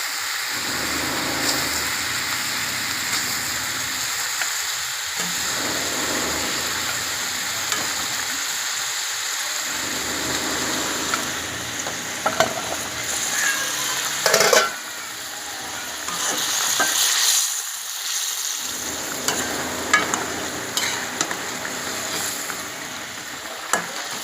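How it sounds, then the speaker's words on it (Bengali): Pieces of katla fish frying in hot oil, a loud, continuous sizzle and crackle close by, with the spattering swelling and dipping as each piece goes in. "আমি এদের একে একে মাছগুলো ছেড়ে দেবো"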